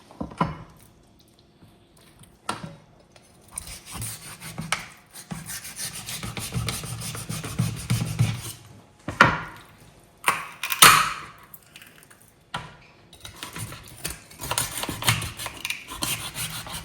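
A knife cutting raw pork trotters between the joints for an Armenian pickled snack gives intermittent rasping, scraping strokes, near and moderately loud, in short bursts separated by quiet gaps.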